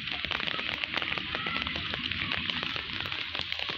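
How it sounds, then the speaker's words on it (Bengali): Heavy rain pouring steadily in Joypurhat, Bangladesh, a dense unbroken hiss with scattered sharper drops and splashes close by, with no voices over it. "বৃষ্টি মোটামুটি ভালোভাবে শুরু হয়েছে, আলহামদুলিল্লাহ। অনেক জোরে বৃষ্টি হচ্ছে।"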